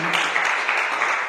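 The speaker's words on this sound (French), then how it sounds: "Acclamons très fort le Seigneur." A church congregation claps loudly at a bilingual French and English worship service, a dense close wash of applause that carries steadily through the short moment with no voice over it.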